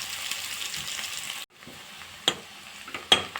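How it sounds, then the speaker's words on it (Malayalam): Sliced onions fry in hot ghee with a loud, close, steady sizzle. The sizzle drops briefly partway through, then comes back with a couple of sharp spatters or stirring scrapes. "തന്നെ നമുക്ക് ഈ സവാള ഒന്ന് വറുത്തെടുക്കാമേ"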